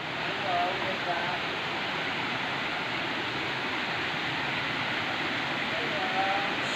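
The El Rancho falls on a trail and resort give off a continuous, even rushing roar of falling water that fills the scene at a steady level without pauses.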